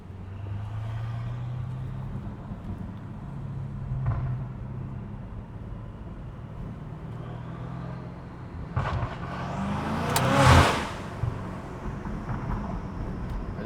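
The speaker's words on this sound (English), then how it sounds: "Hear those turbos and intakes." A turbocharged car engine with loud intakes rumbles low and steady from inside, then revs and downshifts with a rising roar that peaks in a sharp burst near the end, with no talking.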